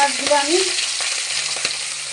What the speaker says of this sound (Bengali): আমি কয়টা পুঁটি মাছ তেলে ছেড়ে দিয়ে, এই দেখো পুঁটি মাছ, এই যে কয়টা তেলে দিয়ে দিই।